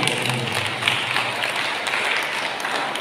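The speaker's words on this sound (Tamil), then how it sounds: "இதுவரை சிறப்பாக சென்ற எங்களுக்கு அவர் கைதட்டு கொடுத்து அவரை பாராட்டுவோம்." Steady applause from a congregation at a Sunday Mass, a dense wash of clapping hands filling the whole stretch at even loudness with no voices over it.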